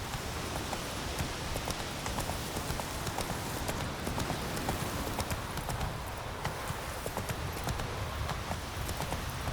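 Roach the horse gallops hard in The Witcher 3: Wild Hunt, a dense, steady drumming of hooves that runs unbroken and loud, with a rain-like wash of noise underneath.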